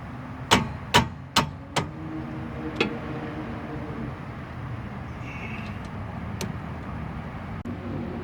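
Ratchet clicks on a 14 mm caliper bracket bolt during a rear brake job: four sharp metallic clicks in quick succession and a fifth a moment later, close and clear, then quiet room noise with one faint click near the end.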